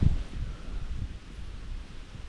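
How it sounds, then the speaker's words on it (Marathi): Wind blows outdoors as a steady, low rumbling rush with gentle gusts and faint rustling. It buffets the microphone close up throughout, and no voices are heard. "हवा बघा वारा बघा कसा सुटला आज"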